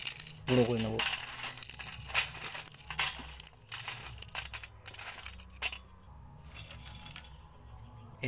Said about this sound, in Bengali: আলু চিপসগুলোকে এভাবে গুঁড়ো করে নেব।